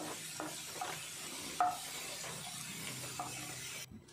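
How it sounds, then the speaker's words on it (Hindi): Potato fries cook in hot oil with a steady close sizzle and bubbling, while a utensil stirs them and gives occasional light scrapes and clinks. "ये देखिए अच्छे से गर्म हो चुका है तेल और फ्राइज भी अच्छे से तले जा रहे हैं।"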